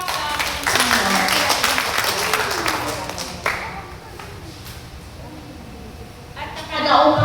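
Audience applause at a Catholic Marian renewal seminar, a broad wash of clapping for most of the clip that fades to a quieter room, with speech rising again near the end.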